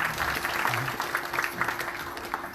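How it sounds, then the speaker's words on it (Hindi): A crowd gathered for a Shrimat Bhagvat religious discourse breaks into applause, a full, continuous rattle of many clapping hands with faint murmuring voices underneath. "दोनों बहनों को जोरदार तालियों से धन्यवाद करते हैं।"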